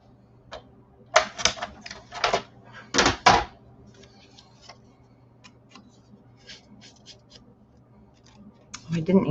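Scissors trimming paper matting for a Stars & Stripes album-in-a-box, heard as a few crisp close snips in quick bursts with quieter ticking handling sounds between them and a soft rustle at the end.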